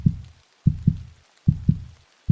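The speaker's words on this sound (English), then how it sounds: "my heart pounding in my chest" A deep heartbeat sound effect thumps in close, loud lub-dub pairs, three beats at an even, tense pace with short silences between them.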